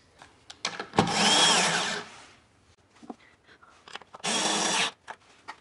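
A power drill drives a screw into wood while stair treads are replaced and installed, giving two loud separate bursts of whirring, each about a second long, with light knocks and handling noises between them and no talk.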